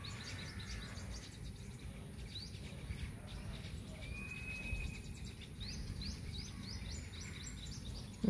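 A family of four mynas, two parents and two young, call in a garden, repeated chirps and squawks scattered over faint steady background hiss, fairly distant and with no talk.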